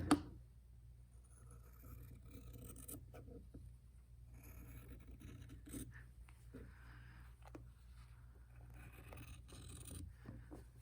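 Fabric cut along a marked line for a mitered quilt border, soft steady scraping snips close by over a low hum, quiet and with no talking.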